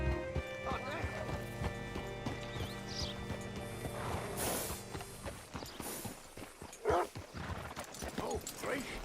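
Horse hooves clip-clop at a walk in the video game Red Dead Redemption 2, moderately close, with a snort or whinny, light mechanical clinks and game ambience under a voice speaking.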